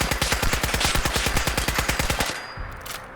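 A Magwell rifle in Fallout 4 fires a rapid automatic burst of about two dozen evenly spaced, loud shots, ending abruptly with a short tail of echo and a mechanical click.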